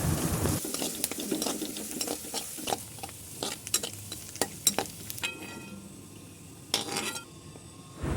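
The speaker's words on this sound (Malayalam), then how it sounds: "എണ്ണ ചൂടാവുമ്പോൾ നമുക്ക് തേങ്ങ ഇട്ട് കൊടുക്കാം" Grated coconut frying in hot coconut oil for a Kerala mutton curry crackles softly as a spoon stirs and scrapes the pan in repeated strokes, with a few sharper clinks of metal.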